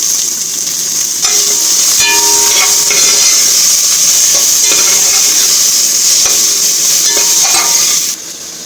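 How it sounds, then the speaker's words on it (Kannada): Onions frying in oil and being stirred in a pan for biryani, a loud continuous sizzle with scraping and clinking of a spoon against the pan, which quietens near the end. "ಆಮೇಲೆ ಈರುಳ್ಳಿ ಹಾಕ್ತಾಯಿದ್ದೀನಿ. ಈರುಳ್ಳಿ ಅಷ್ಟೇ ಚೆನ್ನಾಗಿ ಇವಾಗ ಕೆಂಪಗಾಗೋವರೆಗೂ ಹುರ್ಕೊಳ್ಳೋಣ."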